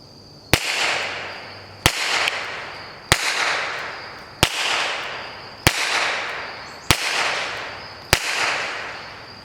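Seven shots from a Walther PPK SD pistol in .32 ACP fitted with a Banish 45 suppressor, sharp close cracks spaced about a second and a half apart, each with a short rushing decay.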